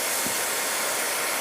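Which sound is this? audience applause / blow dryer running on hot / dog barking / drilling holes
blow dryer running on hot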